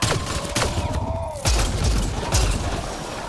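Gunfire in the video game Mass Effect: Andromeda: a few sharp, loud shots land about a second apart over a continuous background of combat noise and mechanical hum.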